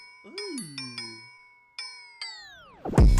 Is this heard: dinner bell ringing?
yes